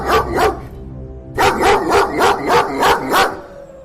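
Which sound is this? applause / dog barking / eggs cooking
dog barking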